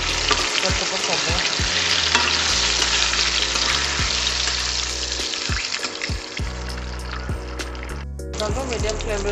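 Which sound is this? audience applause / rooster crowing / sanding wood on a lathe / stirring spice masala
stirring spice masala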